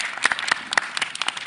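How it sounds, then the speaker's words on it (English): A brief round of applause at a board meeting, with scattered, uneven claps from a small group that thin out quickly. "Please give him another round of applause."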